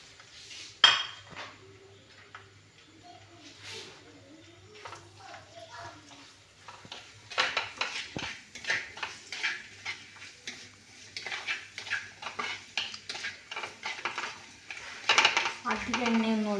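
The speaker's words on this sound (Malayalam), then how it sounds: "ഇതൊക്കെ എടുത്ത് നമുക്കൊന്ന് വഴറ്റി" Chopped onion, green chilli, ginger and garlic sautéed in a little oil, with a faint sizzle at first, then steady scraping and clinking of a spoon in the pan, close by, over a low background hum.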